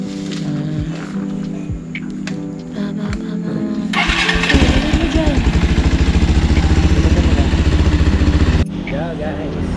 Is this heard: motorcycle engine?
yes